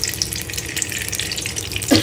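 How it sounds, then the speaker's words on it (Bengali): Oil poured into a very hot kadai sizzles and crackles close up, a steady dense frying hiss that holds for about two seconds. "তেল দিয়ে দিলাম"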